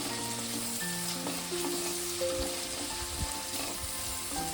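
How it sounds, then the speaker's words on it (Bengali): Chopped onion frying in a pan for a chicken dish, a steady close sizzle with occasional stirring clatters, continuous throughout with no talk. "পেঁয়াজটা আমি মিনিট 2-3 ধরে একটু ভালো করে ভেজে নেব।"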